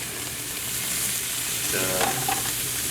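Food caramelizes in a hot pan in a restaurant kitchen, giving a steady, close, continuous sizzle with a brief stir or scrape midway and no talking.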